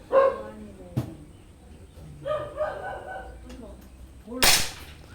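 Taurus CO2 air pistol firing a pellet, a sharp crack near the end, with an earlier snap, among dog-like barks and talking voices.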